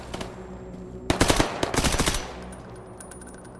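Rapid bursts of automatic gunfire from a weapon in the STALKER GAMMA video game, loud and close, with a quieter lead-in and scattered shots trailing off afterward.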